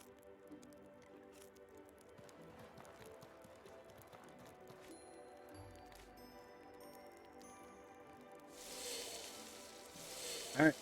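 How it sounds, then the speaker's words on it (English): Water boiling in a pot in the video game Outward: a quiet, steady sizzling bubble with soft crackles, building into a louder burst of hissing near the end. "Alright, water boiling simulator is completed."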